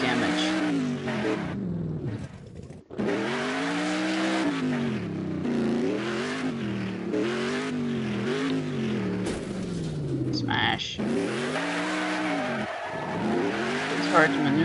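A wrecked, badly damaged car in the Next Car Game technology demo, engine revving up and down in repeated sweeping surges with brief tire skids, loud and close, with a voice talking over it.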